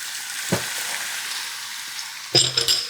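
Potatoes frying in a full Carote pan give a constant bright sizzle. Two short scraping stirs break in, one early and a sharper one near the end.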